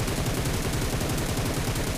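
Sustained automatic gunfire in the mobile shooter PUBG Mobile as two opponents fire from the left, a dense rapid rattle of shots running steadily for about two seconds with no talk.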